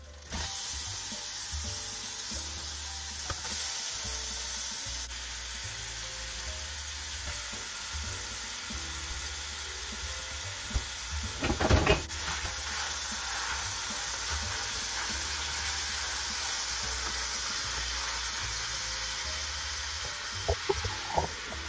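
Lasagna ingredients sizzle as they cook down in a pan, a constant loud hiss with a brief burst of stirring near the middle and a few clinks toward the end.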